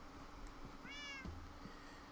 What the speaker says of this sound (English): I have another guard cat up here